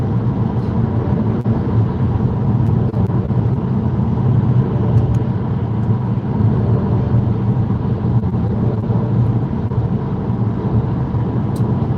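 Steady low rumble of a car cabin while driving on a road, a constant engine and road drone with faint wind noise and occasional small clicks.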